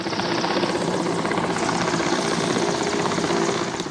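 A helicopter hovers during a rope rescue in stormy winds, its rotor beating in a loud, steady, close throb that holds without pause.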